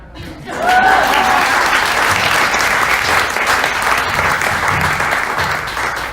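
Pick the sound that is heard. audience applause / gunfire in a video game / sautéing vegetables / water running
audience applause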